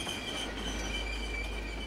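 Locomotive under emergency braking, its train wheels squealing in a sustained high metallic screech over a constant low rumble of the rolling train, loud and close with no voices.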